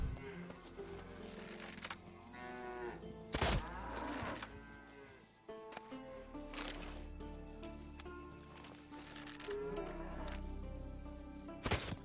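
Cow mooing in the video game The Witcher 3, several long drawn-out lowing calls in sequence, close and fairly loud, with sharp thumps and game sounds between them.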